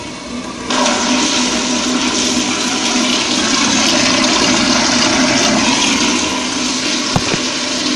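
An American Standard toilet in a restaurant restroom flushes loudly, a steady broadband rush of water that starts abruptly and holds for several seconds, with a brief click near the end.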